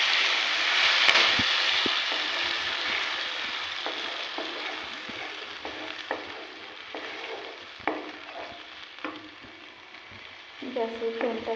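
Ground spice paste sizzling as it fries in very hot oil in a karahi over a high gas flame, with whole cardamom and cinnamon, for vegetarian Kashmiri aloo dum. A steady close hiss carries stirring scrapes and small pops throughout.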